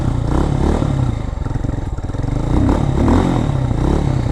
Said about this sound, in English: Because the carburetor is lean, as you can hear.